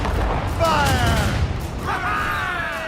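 Ship cannons boom in a naval battle in Assassin's Creed Rogue, heavy blasts rolling under shouted crew voices calling out orders.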